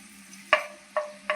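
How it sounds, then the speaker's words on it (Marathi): Crushed garlic dropped into hot oil in a pan for a stuffed capsicum dish, three short sharp sizzle bursts over a low steady hum, close and fairly quiet. "तेल चांगलं तापलं की आपल्याला त्यामध्ये ठेचून घेतलेला लसूण टाकायचा आहे"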